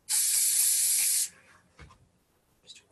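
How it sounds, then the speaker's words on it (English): A spray can gives one quick burst of about a second while crafting, a loud close hiss that stops abruptly, followed by light handling clicks. "a quick little spray there."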